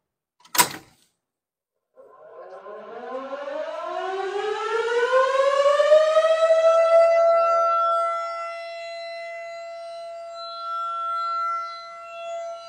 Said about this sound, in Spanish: Nos dicen que la sirena tiene que durar 35 segundos encendida.